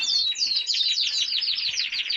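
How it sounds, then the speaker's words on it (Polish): Caged breeding birds eating dietary supplements, minerals and eggshells, chirping in a rapid, dense, high-pitched chatter; close and continuous, with no talking. "Ptaki jedzą"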